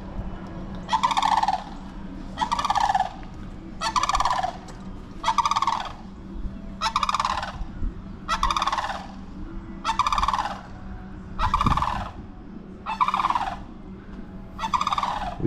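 Sandhill cranes give loud rolling, rattling calls outdoors, about ten regularly spaced bursts over fifteen seconds with a low hum beneath.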